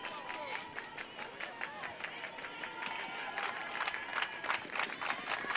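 Crowd at a softball game cheering and clapping, a lively, fairly distant roar with scattered sharp claps and shouts, while a commentator talks over it.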